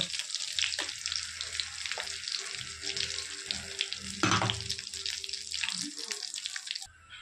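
Cumin seeds, curry leaves and asafoetida sizzle loudly in hot oil for a bitter gourd curry, a dense crackling hiss with bursts of sputter, alone without talk.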